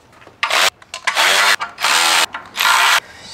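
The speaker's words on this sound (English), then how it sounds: "All right, now let's get some bolts started." A ratchet wrench spins bolts in on a Duramax diesel charge air cooler, with three loud, close bursts of rapid clicking separated by short pauses.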